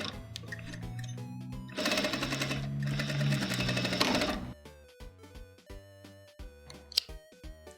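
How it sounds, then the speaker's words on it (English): A sewing machine stitches a straight line along a denim jeans waistband in a steady buzzing run of about two and a half seconds, heard over continuous background music. "we're gonna sew forward a little bit and backward to secure the end. And then we'll just sew in a straight line"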